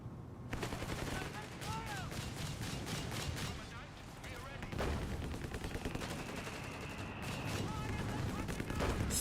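An artillery barrage in Company of Heroes 3 gives dense, continuous booming and gunfire, loud and unbroken for about nine seconds, with game effects layered over it and a commentator's voice in places.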